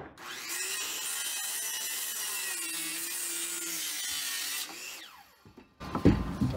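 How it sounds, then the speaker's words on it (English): A saw cuts a wooden rafter at a 33-degree angle for garage roof framing, giving a steady, loud rasping whine for about four and a half seconds before stopping, followed by brief clatter and knocks. "So then I take my saw"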